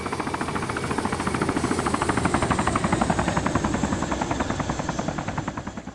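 Helicopter in the video game Arma 2, a steady rotor chop with rapid rhythmic blade pulses that holds loud and even throughout, with no talk over it.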